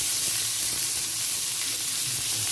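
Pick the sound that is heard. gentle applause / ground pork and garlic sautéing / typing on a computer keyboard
ground pork and garlic sautéing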